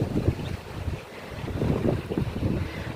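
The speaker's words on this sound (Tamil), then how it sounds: "காற்று அடிக்குது பாருங்க." Wind blowing hard in Kodaikanal on a rainy day, a loud rumbling buffet on the microphone with rhythmic gusts rising and falling, no speech.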